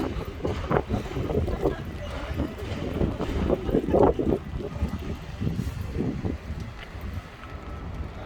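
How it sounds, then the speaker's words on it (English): Strong gusty wind buffets the microphone on a rainy walk along London's Southbank, a rough, rumbling roar that swells and dips throughout, with no clear speech. "Look, this is an example of how strong the wind is, you see? Coming from there."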